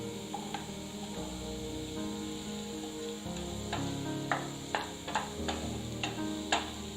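Mushrooms and onion sautéing in a pan for vegetable soup give a steady, close sizzle with occasional light clicks of a spoon stirring against the pan; no one talks.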